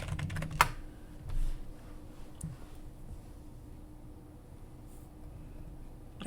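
Username and password being typed on a computer keyboard during a router sign-in, a few scattered faint key taps and clicks, close but quiet, with long quiet gaps between them.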